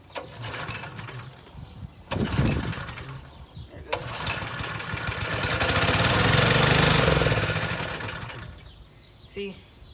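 A lawnmower engine sputters and fires briefly after a struggling start, rising to a rough, uneven run for a few seconds before dying, with a close mechanical clatter and a short bump at the end.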